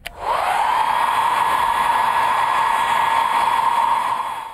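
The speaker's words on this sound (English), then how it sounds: "Blow dryer." A hair dryer switches on and blows steadily at close range, a loud continuous whooshing hum with a high whine, running alone without pause.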